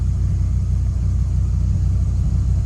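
A Dodge Viper engine idles steadily in first gear with the clutch let out, a loud, even, low rumbling pulse close to the microphone with no change in pitch.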